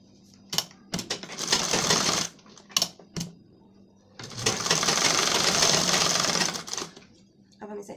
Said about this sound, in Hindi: ऐसे हम दोनों को सिलेंगे।